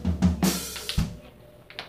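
Hands strike a drum kit's floor tom in a few quick low thumps, then move to the snare and hi-hats for sharp cracks and brief sizzle, close and fairly loud, in a short fill with no voices.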